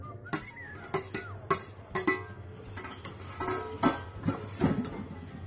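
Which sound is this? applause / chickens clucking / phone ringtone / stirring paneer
stirring paneer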